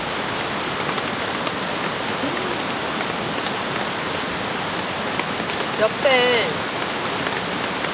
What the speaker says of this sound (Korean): 갑자기 먹구름이 끼더니 진짜 갑자기 비가 내렸어요